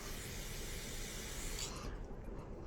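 An aerosol cleaner sprays into a push mower's carburetor in a steady close hiss for about two seconds, then cuts off, leaving only faint background noise.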